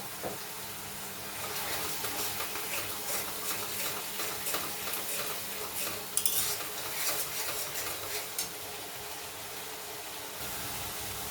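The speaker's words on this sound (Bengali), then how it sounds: "ভালো করে নাড়িয়ে নিচ্ছি" Turmeric being stirred with a spatula in a frying pan for an egg tadka, soft continuous scraping and light sizzling with an occasional clink of metal, fairly quiet, with no talking.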